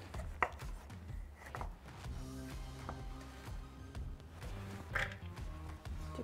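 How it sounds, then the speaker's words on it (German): Pretzel sticks are cut into small pieces with a knife on a board, producing a run of quiet, close, uneven chops and crunches at a soft level. "Die werden jedenfalls klein geschnitten."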